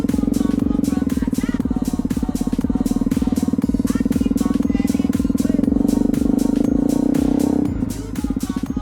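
A Honda CRF250L motorcycle idles and putters in a slow race across a parking lot, a close, steady, rapid single-cylinder thump with a low drone that dips near the end.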